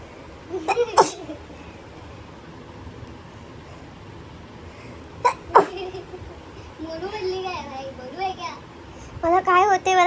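A child with a cold sneezes twice in quick bursts, loud and close, with quiet gaps between and a voice talking toward the end.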